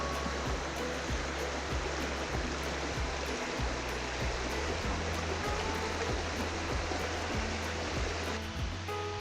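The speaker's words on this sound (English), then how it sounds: "Now it's just a trickle going through that side." Running water from a small stream passing through trees on an island, a steady broadband wash with no breaks, moderately close and continuous on its own.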